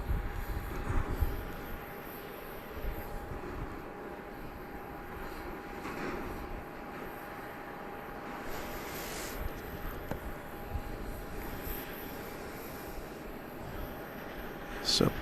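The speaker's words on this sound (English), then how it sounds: "corporate jet now taxiing. But not apparently for takeoff over on our side of the field." A Gulfstream G650 corporate jet taxis at Dallas Love Field, its engines a steady, fairly distant roar with a faint tonal whine across the whole stretch, and occasional voices underneath.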